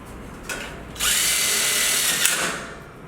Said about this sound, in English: I'm going to stick some screws in it.